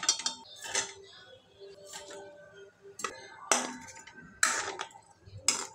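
Gulab jamun being stirred into sugar syrup in a kadhai over a gas flame, heard as bursts of metal-on-metal scraping and clinking from a spoon against the pan, close and irregular.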